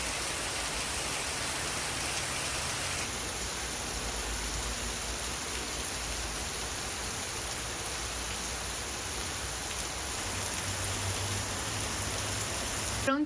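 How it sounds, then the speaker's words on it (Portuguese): Steady rain falling outside a home during the afternoon, a continuous hiss of drops heard from indoors at an even level throughout, with no talking. "a chuva caindo lá fora"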